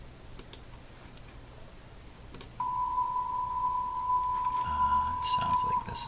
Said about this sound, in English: This is another ham signal coming up right in here